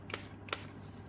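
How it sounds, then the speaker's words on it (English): Two quick hissing bursts of isopropyl alcohol from a spray bottle, misted onto poured resin in a turtle-edge aquarium mold, each short puff close and crisp with a quiet pause between. "I'm going to spray it first with some alcohol"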